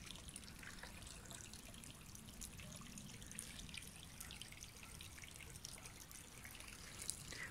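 A small village stream trickles over rocks, a steady, quiet burble with light splashing droplets that continues without pause.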